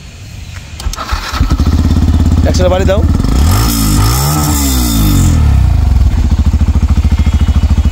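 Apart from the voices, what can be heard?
Yamaha FZS version 3 motorcycle engine starting and running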